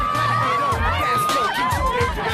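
Crowd of curious onlookers gathering around two visitors on a Tokyo street: a dense babble of many voices and excited calls, close and continuous, with a voice talking over it.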